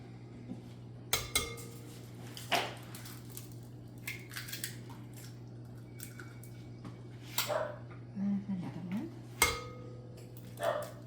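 Two room-temperature eggs are cracked into a KitchenAid mixer bowl in a home kitchen: a few sharp taps and clicks spaced apart over a quiet steady hum, with soft handling noises between.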